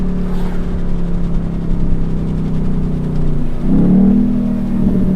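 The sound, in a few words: Ford Mustang GT engine downshifting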